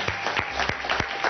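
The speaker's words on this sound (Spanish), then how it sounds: "Y ahora recibamos con un fuerte aplauso al chef invitado de esta semana" Applause from a studio audience on a comedy cooking show welcomes a guest chef, a short burst of clapping with distinct rhythmic claps.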